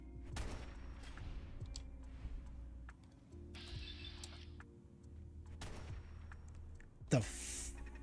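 Turret gunfire in Fallout 4 comes as a few sharp distant shots spaced over several seconds above a low steady game ambience, ending in a louder burst.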